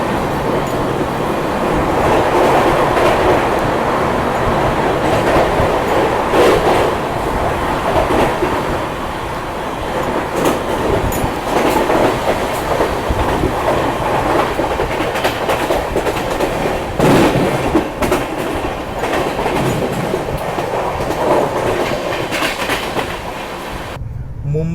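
The Mumbai Delhi CR Rajdhani Express running at 130 km/h through a heavy rainstorm, a loud continuous rumble with rail clatter and wheel noise that stays strong throughout, wind and rain mixed in, no speech.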